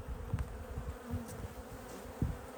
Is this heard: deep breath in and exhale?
no